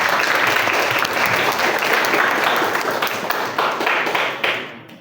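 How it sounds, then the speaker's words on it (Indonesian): Audience at a traffic discipline outreach session held with police gives loud, dense applause, sustained clapping close by that tapers off at the end. "Tepuk tangan."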